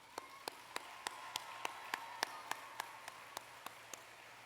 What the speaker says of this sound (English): Right now I'd like to give everyone a round of applause for Andy Seibel's support